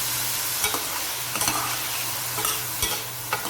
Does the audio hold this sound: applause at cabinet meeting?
no